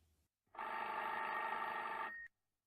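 A telephone bell rings once in a single sustained, bright metallic trill lasting under two seconds, close and clear, with silence before and after.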